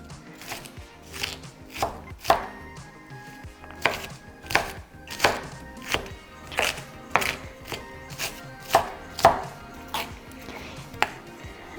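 A knife chops onion into small pieces on a cutting board for a red lentil bolognese, sharp close thuds landing in an uneven steady rhythm, each a crisp knock on the board, with no voices.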